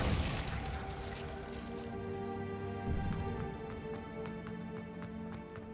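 A Confringo spell explosion in Hogwarts Legacy, a video game, bursts loudly at the start, then fades into a sustained ringing drone with scattered crackles and pops.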